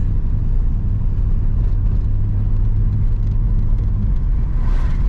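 An old car driving for the first time after sitting 17 years, its engine rumbling steadily and loudly up close as the transmission shifts, with no talking.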